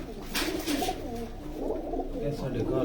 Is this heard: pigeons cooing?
yes